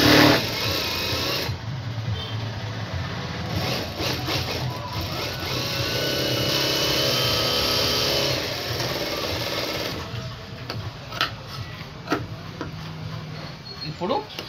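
A sewing machine runs in bursts while stitching the lining of a straight-cut blouse, its fast, steady mechanical whir rising and stopping between short pauses, with a voice speaking in between.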